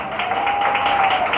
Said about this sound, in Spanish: Ese aplauso es para el Rey de Reyes y Señor de Señores